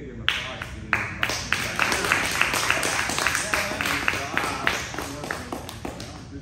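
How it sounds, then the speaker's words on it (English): A small martial arts class practising Teiken and full nelson defenses claps for a student, a short burst of sharp, close handclaps from a few people with voices mixed in. "We gotta give him applause."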